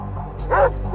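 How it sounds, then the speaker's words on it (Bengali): A big dog barks once in a cartoon, a single loud close bark rising over a low background hum, with a softer yelp starting at the very end. "ওরে বাবা, হে কুকুরটা কত বড়!"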